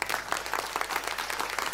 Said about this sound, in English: Let's welcome him with a thunderous applause